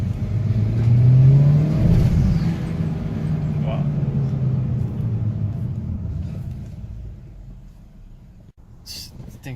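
A modified Honda Accord or Civic turbo engine rises in a quick rev, then settles into a steady rumbling idle that slowly fades, heard fairly close.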